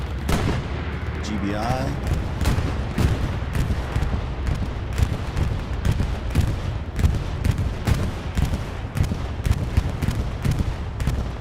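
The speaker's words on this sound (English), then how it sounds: "sounds like bombing run" Bombing run in Hell Let Loose on the Saint map, a dense, continuous barrage of booming explosions and gunfire rumbling without pause, with a voice talking briefly early on.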